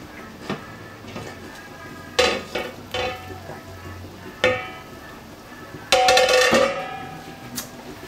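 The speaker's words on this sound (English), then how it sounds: "The pickles are boiling." Kitchen clatter of pots and utensils with pickles bubbling and sizzling in a boiling pot underneath; several sharp metallic knocks stand out, one louder burst near the end.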